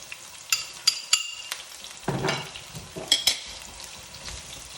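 Chopped onions fry and sizzle in a hot pan for a vegetable bhaji stir-fry, with a steady hiss broken by sharp clicks and scrapes of a utensil stirring and breaking them up, close and alone with no talk.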